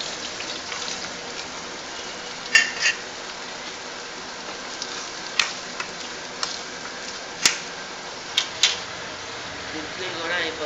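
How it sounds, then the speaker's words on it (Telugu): Green chillies frying in a pan for an idli breakfast dish give a steady, soft hiss like light rain, broken by a few sharp pops and crackles scattered throughout. "ఇట్లా ఫ్రై అవుతుంది అన్నమాట పచ్చిమిరకాయలు"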